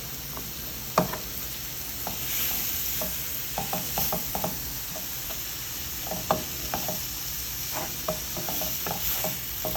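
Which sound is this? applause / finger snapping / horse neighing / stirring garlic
stirring garlic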